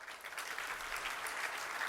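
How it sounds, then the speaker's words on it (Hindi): A seated audience at a Kalash Sthapana religious gathering at Dayoday Gaushala, Tilwara Ghat, breaks into brisk, even clapping, a short dense patter of many hands heard at moderate distance. "ये ताली कहाँ क्यों बज रही है?"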